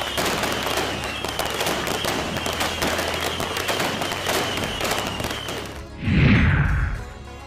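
Diwali firecrackers crackle in a dense, rapid stream of sharp pops for several seconds, then a louder booming burst with a whooshing tail rings out near the end.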